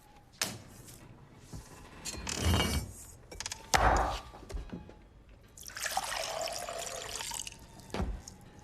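Water splashes and trickles in several short bursts with clinks and handling noises between, ending in a longer steady pour.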